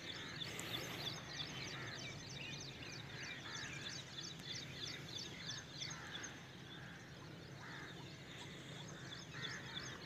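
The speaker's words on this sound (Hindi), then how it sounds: "परिंदे जो हैं वो बोल रहे हैं, चहचहा रहे हैं, सुनिए।" Morning birds call on a walk, repeated honking, goose- or duck-like cries over a constant hiss, fairly faint and distant, with no talk.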